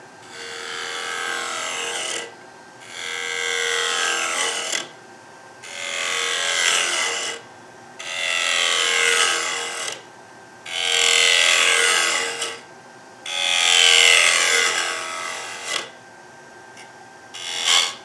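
Wood lathe turning a skateboard blank held on a tenon, a cutting tool working the spinning wood in repeated bursts of a couple of seconds each, a rough whirring scrape broken by short pauses, loud and close with no talking.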